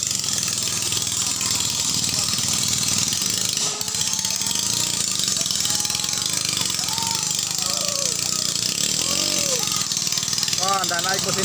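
A racing ketinting longtail boat with a 6.5 hp engine drones and rattles continuously, loud and close, while people talk and shout over it throughout.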